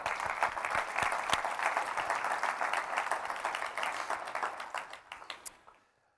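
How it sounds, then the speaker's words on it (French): A church congregation breaks into sustained, dense applause during a worship service, a steady wash of many hands clapping that holds loud and then fades out toward the end. "alors on acclame le Seigneur"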